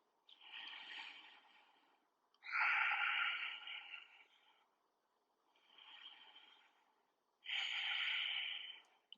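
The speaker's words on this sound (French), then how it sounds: "Encore 3 respirations." Slow, deep breaths during a mobility exercise: four long, airy inhale and exhale sounds, close and soft, separated by quiet pauses.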